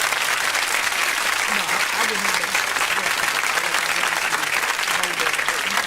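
A studio round of applause on a radio program: dense, steady clapping from an audience fills the whole stretch at a constant, fairly loud level, with no pauses.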